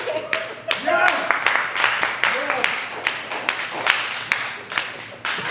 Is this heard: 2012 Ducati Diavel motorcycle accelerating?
no